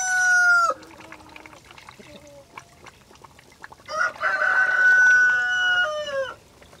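Chickens on a small farm on a cold winter day, with a rooster crowing loudly at the start and again in a long, close crow near the end, while softer clucking fills the quieter stretch between.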